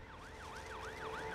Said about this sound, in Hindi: यहाँ पर एम्बुलेंस आ गई है।